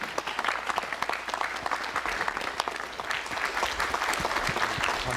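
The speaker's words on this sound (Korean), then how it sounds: "박수로 맞이해 주십시오" A studio audience welcoming a guest with applause on a 1983 Korean television talk show, dense sustained clapping from a crowd that stays loud and even throughout.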